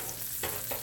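Salmon fries in butter over medium-high heat, giving a quiet, steady sizzle. Two brief stirring or scraping touches come through, and no one speaks.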